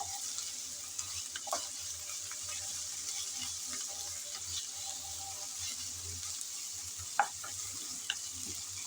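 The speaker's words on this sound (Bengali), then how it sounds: "আদা রসুনটাও নেড়ে চেড়ে ভালোভাবে ভেজে নিতে হবে, যাতে কাঁচা গন্ধটা চলে যায়।" Ginger-garlic paste frying and being stirred in a pan for a prawn curry, a steady soft sizzle with occasional scraping clinks of the spoon, close and continuous with no talking.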